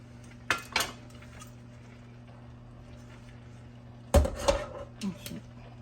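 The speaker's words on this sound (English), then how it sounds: "So I'm gonna put a cover on this to let this saute until this cook." A lid goes onto a metal cooking pot of browning taco bowl meat, two short clanks at the start, then a louder clattering rattle as it settles, with quieter clinks after.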